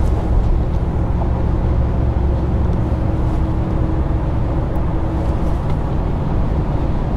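A Ford F250 pickup with 4.30 gears cruising and speeding up from 60 to 70 mph, a steady, loud low engine drone and road rumble heard from inside the cab, with no speech.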